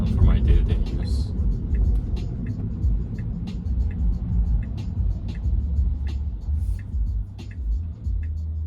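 Cabin rumble of a Tesla driving itself on a road under Full Self-Driving, a steady low road and tyre drone with soft clicks, while someone talks over it.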